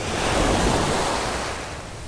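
Ocean waves break on a beach in a loud, continuous rushing wash that swells and then slowly fades, close to the microphone, with wind noise mixed in.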